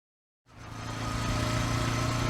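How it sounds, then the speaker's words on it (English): Motorbike engine in the visual novel Raging Loop, starting after a brief silence and settling into a steady, close running drone that grows slightly louder. "Oh, I hear a motorbike."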